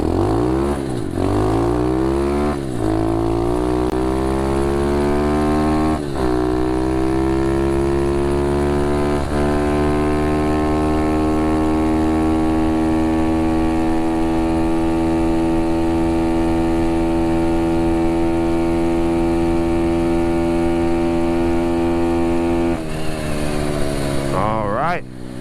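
A 125cc pit bike fitted with a racing CDI on a speed run: the engine's buzzing note climbs through a few quick gear changes, then holds a loud, steady high-revving drone, heard close up throughout.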